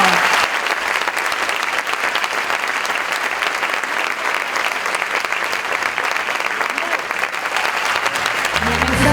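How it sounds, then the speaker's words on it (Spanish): Loud, sustained audience applause fills a theatre during a stage revue, a dense, steady roar of many hands clapping from start to finish, with a low musical sound entering in the last moment. "Un aplauso."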